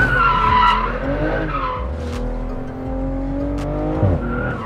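A BMW G22 M440i drifting, its tires squealing continuously and loudly along with a strained engine note, the squeal wavering in pitch as the car slides sideways.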